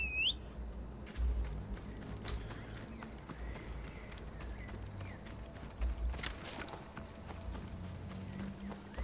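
Galloping horse hooves in the video game Assassin's Creed Odyssey, a steady clip-clop rhythm running throughout at moderate volume with a few brief high whinny-like calls.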